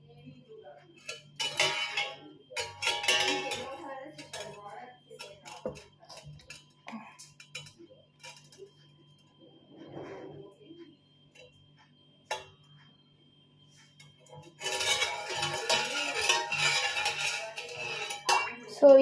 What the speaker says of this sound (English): మొత్తం ఇలా స్టర్ చేయాలి, అంటే షుగర్ అంతా దాంట్లో కలిసిపోయేటట్టు